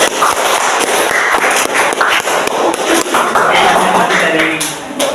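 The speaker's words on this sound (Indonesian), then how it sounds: "Oke, tepuk tangan kepada Esi." Loud, dense classroom applause for a student during an Islamic history lesson: many hands clapping in a rough, continuous burst, close and busy, with voices mixed in underneath.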